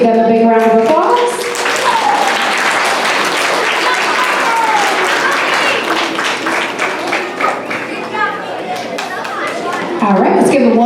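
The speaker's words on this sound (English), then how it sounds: "let's give them a big round of applause" An audience at a school award ceremony gives sustained, loud applause, with dense steady clapping and some crowd chatter, while a voice speaks briefly at the start and again near the end.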